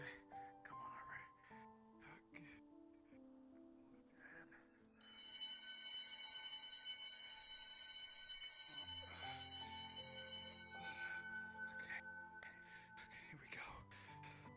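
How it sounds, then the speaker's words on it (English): A bell rings in a VR game, steady sustained tones layered with overlapping chimes that swell midway, faint and mixed under whispered talk. "To be safe, I'm ringing the bell"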